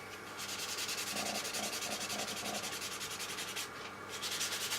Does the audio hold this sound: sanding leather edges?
yes